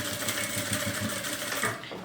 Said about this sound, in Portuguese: a gente passa uma costurinha reta pra prender a alcinha aqui